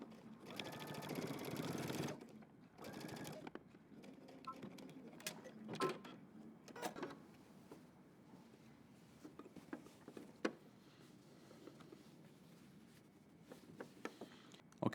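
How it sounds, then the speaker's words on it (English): A sewing machine backstitches along a denim jacket welt, its motor whirring in close, loud bursts, with a long run at the start, then shorter stop-start runs and clicks. "I'm just going to backstitch at the beginning and end."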